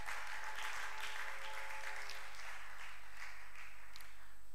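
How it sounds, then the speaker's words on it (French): A church congregation applauds the word of God during a service, a steady wash of clapping from many hands held at an even level throughout, with a low constant hum beneath. "Est-ce que quelqu'un peut acclamer pour la parole de Dieu?"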